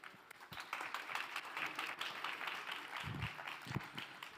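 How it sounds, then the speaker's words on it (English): Conference audience claps for a speaker at a crypto event stage in Bogotá, a fairly faint, steady patter of many hands heard from some distance, with a few low knocks and thumps mixed in. "please, everybody, round of applause for the speaker"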